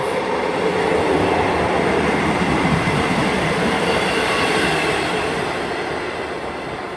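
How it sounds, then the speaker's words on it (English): A ScotRail Class 158 diesel multiple unit passes at Haymarket, a steady loud broadband rumble and rail roar throughout that eases slightly as it moves away. "Coming through now is another 158 unit."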